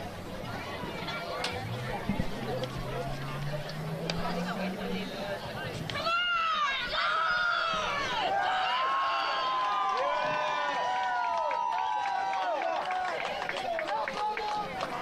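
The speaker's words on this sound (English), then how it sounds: "Crowd's getting a little impatient." Crowd at an outdoor girls' varsity rugby match, a broad wash of chatter and distant shouts that runs the whole time, with a commentator talking over it at close range.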